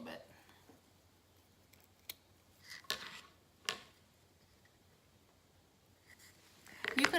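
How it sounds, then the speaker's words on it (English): Scissors snipping the string ends on a log cut-out ornament, a few sharp close cuts spaced apart amid quiet, followed by a louder rustle at the end. "And then cut the ends a little bit."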